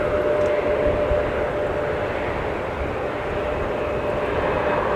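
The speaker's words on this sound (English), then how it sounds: "A350-900 that will be arriving right in front of us on runway 12 right" An Airbus A350-900 jet arrives on runway 12 Right at Minneapolis–St. Paul Airport in a winter storm, giving a steady broad engine roar with a faint tonal whine, continuous and fairly loud, no talking.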